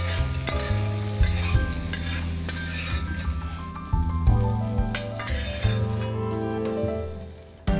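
Salted fish fries in oil with a little ginger, giving a continuous crackling sizzle broken by scraping stirring strokes and occasional utensil knocks, close and fairly loud.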